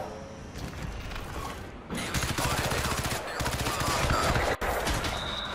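Rapid pistol gunfire in the Crysis 3 beta multiplayer, loud and dense bursts of shots layered with game mechanics and faint talk over a steady action backdrop.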